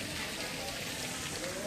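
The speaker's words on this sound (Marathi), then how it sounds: "सुंदर पावसानं असं डोंगरावरून पाणी पडतंय." Rain and water pouring down the hillside at Pandav caves in Nashik, a dense steady hiss of falling water filling the scene, close and continuous.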